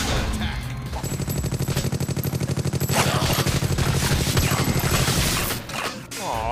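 Rapid automatic gunfire rattles steadily as a turret comes under attack in Randomnauts, loud, dense and sustained for several seconds before tapering off.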